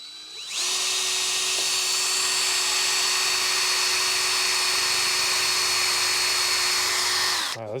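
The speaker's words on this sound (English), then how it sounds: "Wow, this drill bit's really dull." A dull bit drilling a hole through a flattened copper pipe end: a steady, loud power-drill whine with a high-pitched tone runs unbroken for about seven seconds, then stops abruptly.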